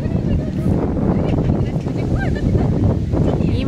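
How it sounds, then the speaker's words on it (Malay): Wind blows across a microphone outdoors at a football match, a steady, loud, low rumble that buffets throughout, with faint voices mixed underneath. "Angin."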